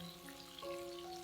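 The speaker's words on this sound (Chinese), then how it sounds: "另一面稍微煎一下就行，大概20秒" Hakka-style tofu stuffed with minced meat pan-fries over medium-low heat with a faint, soft, continuous sizzle, backed by quiet steady tones and no speech.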